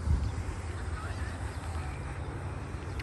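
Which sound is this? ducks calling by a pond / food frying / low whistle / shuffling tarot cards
ducks calling by a pond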